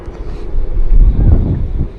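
Strong wind buffets the microphone on the mountain at Jebel Hafeet near Al Ain, a loud, steady low roar that surges and gusts throughout with no speech.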